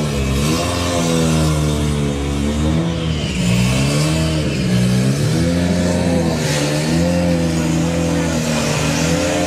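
VW drag cars roar at Santa Pod during the Bug Jam eliminations, a loud sustained engine note rising and falling in pitch as revs climb, with a commentator's voice over the noise.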